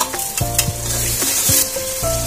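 Shrimp frying in a pan with garlic, onion and ginger, a steady close sizzle broken by a few clanks and scrapes of stirring, with no speech.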